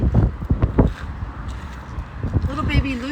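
Wind gusting outdoors in a paddock, a steady rumbling buffet against the microphone with a voice talking over it and some movement noise.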